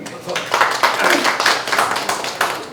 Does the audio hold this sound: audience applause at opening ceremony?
yes